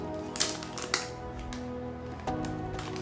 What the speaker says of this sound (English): Let's open up the plastic.